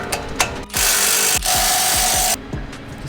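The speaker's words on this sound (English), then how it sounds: "now we go ahead and remove the caliper bolts" A power tool spins out 17mm rear brake caliper bolts on a GR Corolla, a loud close whir that runs in two sustained bursts with a brief pause between, framed by clicks and metallic handling sounds.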